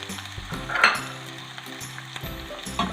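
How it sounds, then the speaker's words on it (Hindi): Garlic and onion frying in a pan, a soft sizzle under occasional clinks and scrapes of a spoon against the pan, with a low hum in the background, no talking. "इसको हम फ्राई कर लेते हैं। इसमें अब मैं प्याज डाल रही हूँ,"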